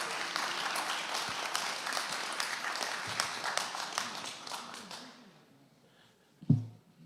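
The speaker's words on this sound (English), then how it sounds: "Let's give her another round of applause" An audience in St Faith's church, Havant, claps for a performer at a voice choir concert, a dense round of applause that runs steadily for about five seconds, then fades out into near quiet, closed by one brief thump.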